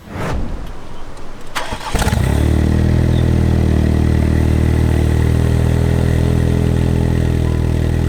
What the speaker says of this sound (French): on va démarrer, histoire qu'on entende un peu le bruit de ta voiture